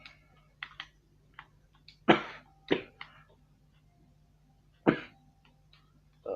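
Several short, dry coughs and throat clears break out at irregular intervals, fairly close and alone, with quiet clicking between bursts.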